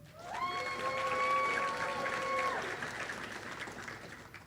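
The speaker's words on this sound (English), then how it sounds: "Please join me in a round of applause as we honor the MEDEX Kona Pi Alpha inductees of 2026." Applause at the MEDEX Northwest Kona graduation ceremony for Pi Alpha inductees: a crowd claps steadily while a sustained tonal whoop rings out over it for about two seconds, then the clapping carries on and fades.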